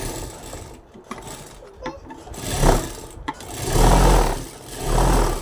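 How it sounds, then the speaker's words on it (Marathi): Sewing machine stitching a straight seam along a saree border, running in short bursts of steady rasping whir separated by brief pauses, fairly close and alone without talk. "सरळ शिलाई करून घ्यायची."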